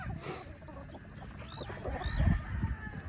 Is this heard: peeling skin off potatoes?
no